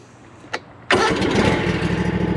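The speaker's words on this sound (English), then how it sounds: "I have the noise of the mower. So let's go ahead and crank this thing up." A zero-turn lawn mower's small engine cranks with a brief whir, then catches and roars into a steady, loud, rattling idle close by.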